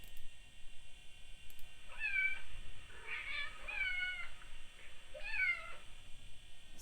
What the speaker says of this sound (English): Sounds like a cat trying to sound like a cat.